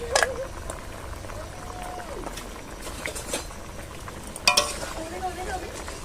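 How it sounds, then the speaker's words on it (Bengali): Fish dropped into a simmering vegetable curry of fresh field greens in a pan, giving a steady bubbling sizzle with a sharper splash and clatter near the end. "এবার আমি মাছগুলি সব দিয়ে দিচ্ছি।"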